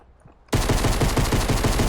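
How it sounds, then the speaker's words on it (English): Rapid gunfire in Fortnite Battle Royale erupts after a quiet moment and becomes a dense, loud, steady volley of repeated shots that continues to the end. "Yeah, you hear the shots."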